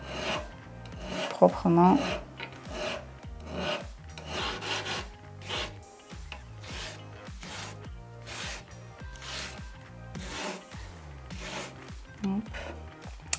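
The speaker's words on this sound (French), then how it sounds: "Donc là, je viens le limer et ensuite je reviendrai émeriser par-dessus." Excess solder filed off a 925 silver hoop earring, steady back-and-forth rasping strokes in a regular rhythm, close and moderately loud, continuing under someone speaking French.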